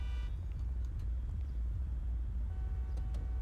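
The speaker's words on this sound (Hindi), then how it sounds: "तो मैं ट्रक लेके चलता हूँ" A truck engine rumbles low and steady while driving in GTA 5, a continuous heavy road drone with faint mechanical clicks and tonal whines on top, no voices.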